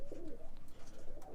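Birmingham Roller pigeons coo softly and continuously in a loft, with several overlapping low calls close by.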